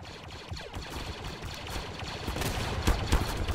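Gunfire rattles in a multiplayer shooter video game as a dense, continuous spray of rapid shots, heavy and somewhat muffled, building slightly louder toward the end with no talking.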